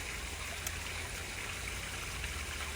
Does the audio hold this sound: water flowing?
yes